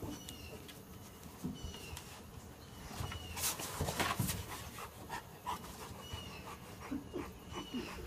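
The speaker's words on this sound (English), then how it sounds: "Dog and a coon playing." A big dog pants rapidly and steadily while playing with a small raccoon, close by, with light scuffling and movement sounds alongside.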